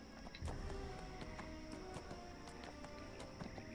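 Horse hooves clip-clopping in a steady rhythm while riding in the video game Neverwinter, a fairly faint, busy game mix with music and effects layered around the footfalls.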